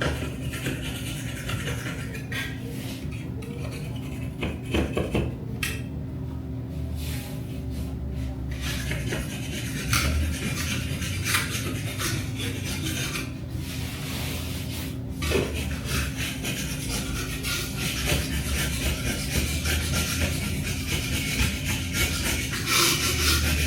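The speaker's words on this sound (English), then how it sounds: "Anywhere the paint run is, I just use a blade scraper, scrape that paint run off." A blade scraper scrapes a paint run off a heavily repainted salon wall, making repeated close rasping strokes in an uneven rhythm with short gaps and occasional knocks.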